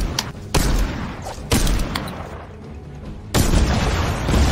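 Gunfire in the video game Fortnite: a few heavy, loud blasts land roughly a second apart, each with a booming burst and a sharp crack, separated by quieter game ambience.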